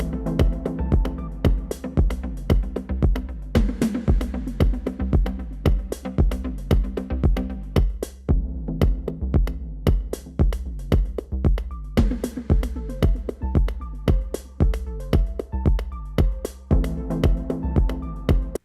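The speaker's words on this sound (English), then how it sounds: "We're going to use a Trigon 6 for all of it, and it sounds like this." A dub techno track played entirely on a Sequential Trigon 6 synthesizer: a steady four-on-the-floor low pulse under repeating echoing chord stabs. It is loud and continuous, with a brief thinner break midway.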